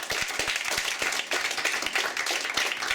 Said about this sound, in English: Can we have another round of applause for Jacob?